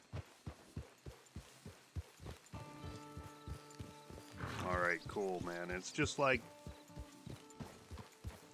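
Horse hooves clip-clopping in the video game Red Dead Redemption 2, a steady walking rhythm of soft thuds throughout, with a sustained tonal sound in the middle and someone talking over part of it.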